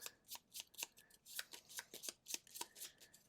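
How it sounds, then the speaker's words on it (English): Gloomhaven board game cards are shuffled close up in a quick series of about a dozen crisp riffling bursts at an even rhythm, quiet and alone. "We also need to shuffle these ones"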